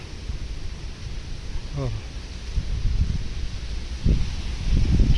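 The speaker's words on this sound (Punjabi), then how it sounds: "ਉਹ ਦੇਖੋ ਜੀ ਦਰਖਤ ਹੈ ਜੀ ਹਵਾ ਇਕਣਾ ਚੱਲਦੀ" Wind blows hard through trees on a farm as stormy weather builds before rain, a steady broadband rush that swells and gusts louder toward the end, with a brief voice-like sound partway through.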